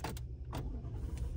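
A Ford truck engine starts up, a low steady rumble broken by a few short, loud bursts over about a second and a half, close by with no talking.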